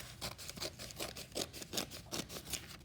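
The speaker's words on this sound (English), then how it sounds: "I'm gonna put my scissors in here and just cut along that" Scissors snipping through cardboard for a paper mache mask, a quiet, close series of about a dozen crisp rhythmic cuts at an even pace, with no talking over them.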